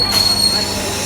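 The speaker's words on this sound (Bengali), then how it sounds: "এই চলে আসলো ট্রেন" A passenger train arrives at a station in Berhampore, its wheels letting out a sharp, sustained metallic squeal close by over a low rumble of rolling carriages.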